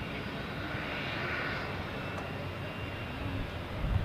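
An airplane roars on its takeoff run at Zurich airport, a steady broad engine rumble filling the whole stretch at moderate distance, with no voices over it.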